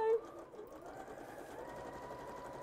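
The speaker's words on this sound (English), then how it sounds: "So we're going to sew this pocket and then this is going to fold in." A sewing machine runs close and steadily while stitching a pocket on a dress, a soft continuous whirring hum with a brief louder start, and a voice talking lightly over it.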